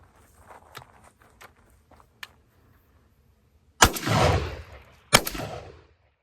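Two loud shots from a 12 gauge shotgun firing 2.75 inch shells outdoors, each a sharp blast with a booming tail, after quiet scattered footsteps and handling noise.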